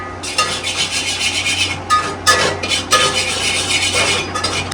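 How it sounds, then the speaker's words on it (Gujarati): Turmeric being dry-roasted in a pan makes a steady scraping, rasping stir of a utensil against metal, close and fairly loud, with brief louder scrapes and no talking. "હવે આપણે સ્કિન કેર માટે હળદર શેકી રહ્યા છીએ"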